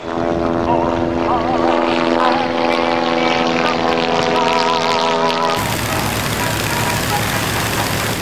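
Propeller engines of a WW1 Bristol fighter and German triplanes drone loudly and steadily in a steady harmonic hum, the tone shifting abruptly partway through into a broader, rougher roar.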